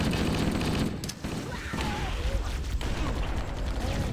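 Heavy gunfire in a military shooter game with marines, dense continuous bursts of automatic fire and rattling shots filling the scene, loud and close, with voices shouting underneath.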